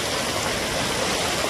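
Water from a stream rushes steadily past rocks, a continuous close wash of splashing and gurgling with no voices.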